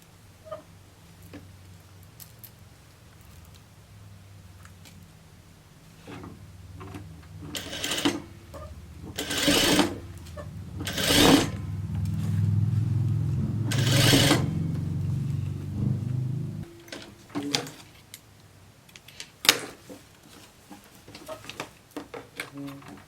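A sewing machine topstitches a seam on a summer dress in short whirring bursts with pauses between them, close and clear, while someone talks in between.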